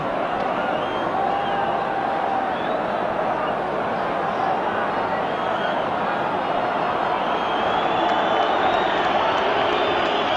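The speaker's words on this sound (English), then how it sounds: "Crowd a little irritated by that." Large football crowd at a 1977 Scotland v Czechoslovakia World Cup qualifier, a dense, continuous roar of voices and murmuring that swells slightly toward the end, heard steadily throughout.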